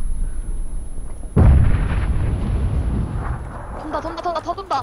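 Grenade explosion in the game PUBG Battlegrounds: one sudden deep boom with a rumbling tail, loud and close, followed by players talking over the game audio.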